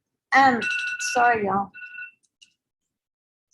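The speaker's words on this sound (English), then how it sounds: "That was my alarm to wake up, to be on the show." A phone alarm rings with a bright, tonal ringtone melody that is loud and close, then cuts off after under two seconds as a person briefly speaks.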